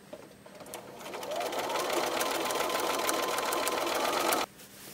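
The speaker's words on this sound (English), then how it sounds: "sew 1/4 inch seam allowance, again, down the edge from one side to the other." A sewing machine stitches a quarter-inch seam along fabric strips, a fast, steady whirring run that builds over a couple of seconds, holds close and loud, then stops abruptly near the end.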